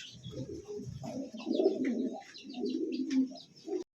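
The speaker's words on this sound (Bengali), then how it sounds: "আমার এই পর্যন্ত দেখতে পাচ্ছেন স্ক্রিনে এক জোড়া হলুদ লাহোরি সিরাজি কবুতর আছে" A pair of yellow Lahori Shiraz pigeons cooing softly nearby, low throaty rolling coos in two bursts with faint higher chirps from other birds behind.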